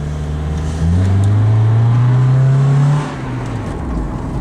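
A Honda del Sol engine revs hard toward VTEC, heard from inside the car as a loud, rising drone that swells, holds for a couple of seconds, then drops back to a steadier hum.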